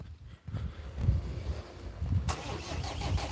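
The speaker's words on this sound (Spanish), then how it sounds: "Arranca el coche, me descargáis la batería" A car engine turns over and catches, low rumbling starter churn followed by the running engine, close to the microphone and mixed with gusty wind noise outdoors.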